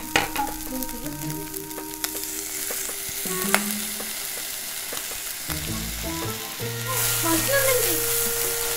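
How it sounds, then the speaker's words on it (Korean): Rosé pasta sauce sizzles and bubbles in a frying pan on a home stove, a continuous close hiss with occasional clinks of stirring and faint tonal sounds in the background. "로제 파스타 소스를 넣어줄 겁니다"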